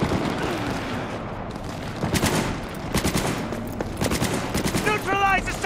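Gunfire rattles in Cyberpunk 2077 as sharp rapid bursts and scattered single shots, fairly close, mixed with shouted voices during a chaotic firefight.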